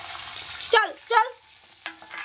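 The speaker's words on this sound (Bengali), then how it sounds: "এই দেখো, এবারে এগুলোকে ভেজে নিই।" Ingredients for chilli chicken drop into hot oil with a loud, close hiss of frying that cuts off after a moment, followed by a few short, rising voiced sounds and quieter background.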